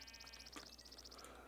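Several sheep in a video game bleat faintly, brief wavering calls over a steady hum of game ambience and a rapid ticking pattern.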